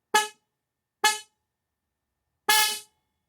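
A battery-powered car horn on its low tone blasts three times, two short toots and then a longer honk, loud and close with silence between.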